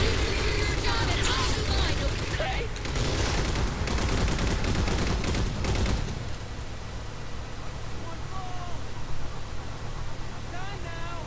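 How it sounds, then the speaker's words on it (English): In the Halo 4 campaign, dense rapid machine gun fire rattles loudly for about six seconds, then cuts off, leaving a quieter rumbling ambience with faint chirps and a voice underneath. "Machine gun again."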